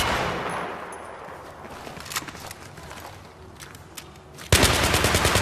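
Bursts of automatic gunfire in the Battlefield 3 video game, rapid shots crackling through the first half, then a sudden sustained loud burst near the end.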